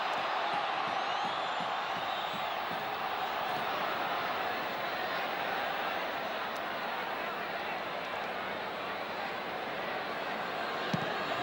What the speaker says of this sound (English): They brought a roar from the crowd